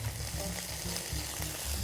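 Cannellini beans fry in melted butter in a pan, a steady close sizzle with a low bubbling hum underneath, continuous and with no voices for the whole stretch.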